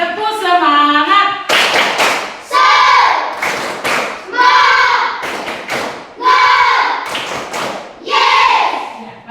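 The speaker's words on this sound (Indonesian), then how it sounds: "Tepuk semangat." A standing group at a Catholic religious education class in Merauke claps the rhythmic spirit clap: loud, close, patterned bursts of clapping with chanted voices between the claps, repeated in several cycles.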